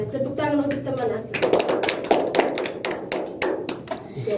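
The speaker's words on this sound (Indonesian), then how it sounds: "Tepuk tangan untuk teman aku." Classmates clap in a classroom: a teacher's voice opens, then a run of sharp, close, uneven hand claps follows for a few seconds.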